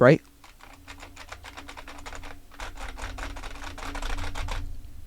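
Rapid clacking keystrokes on an IBM Model M keyboard come in dense bursts with short pauses, steady and close. A brief voice is heard at the very start.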